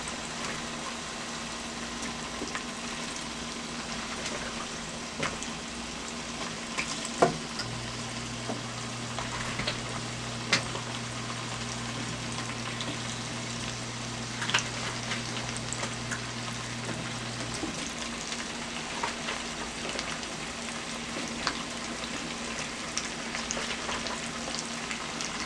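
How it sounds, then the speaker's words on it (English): Garlic and herb potatoes frying in a skillet over a high stove flame give a soft, steady crackling hiss that runs evenly for the whole stretch, fairly quiet and close, with a low hum underneath and no talking. "My stove is on high, and once it starts to fry, I'm going to turn it down to medium and let it continue to fry."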